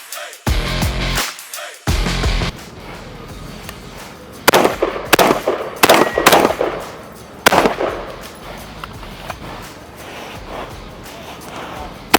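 Rifle shots ring out at a nighttime shooting event: several loud, sharp cracks spaced irregularly, some in quick pairs, with brief voices around them.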